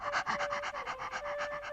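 A storyteller imitates a fish gasping for breath with a steady run of about a dozen rhythmic, breathy panting gasps, close and fairly loud, with no other talk.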